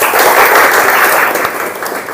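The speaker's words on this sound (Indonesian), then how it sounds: "Tepuk tangan buat kita semua." Loud, dense applause from a classroom of people fills the space, steady and close, then tapers off slightly near the end.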